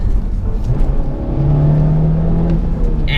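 A Honda Civic Type R engine revs through manual downshifts, a loud, close mechanical roar that climbs in pitch and then holds a sustained whining tone for about a second before easing off.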